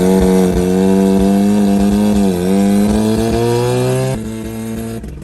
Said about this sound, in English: You gotta rev it up a little bit.